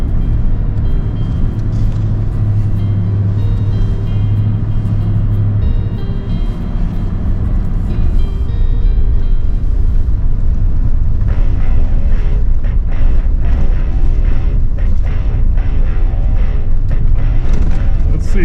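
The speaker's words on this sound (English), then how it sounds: "I have to really get on it to make the tires break loose" A car on Yokohama Geolandar tires revs hard on ice and snow, the engine droning loud and steady before rising into a harsher, roaring spin of the wheels, with wind buffeting the microphone.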